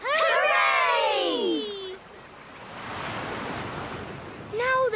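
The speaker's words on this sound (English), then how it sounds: "Now there's water in the river again." Water rushes along a river in a children's cartoon, a steady whooshing flow rising after a chorus of high cheering voices, with the voices returning briefly at the end.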